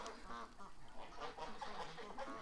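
Black ducks on a lawn give a continuous chorus of overlapping quacks and murmurs, fairly faint and steady throughout.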